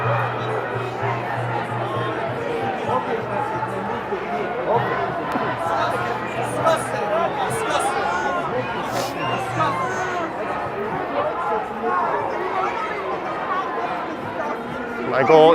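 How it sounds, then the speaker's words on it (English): Crowd chatter on a busy downtown Toronto street on Thanksgiving Day, a dense continuous babble of many voices with footsteps and street noise, moderately loud and surrounding, with a low hum underneath. "It looks like it might be tough negotiating the crowd up ahead here."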